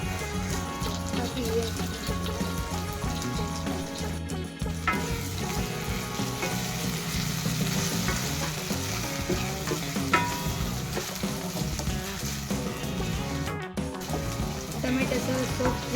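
Tomatoes cooking in a kadai for a bottle gourd kofta curry, a steady loud frying sizzle with stirring and scraping that runs throughout, with brief gaps and light clatter.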